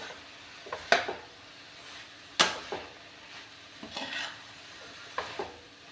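Sugar being stirred into a pan of drumstick flower sabzi, a few separate scraping and clinking strokes of a spoon against the pan, close by, with quiet gaps between them.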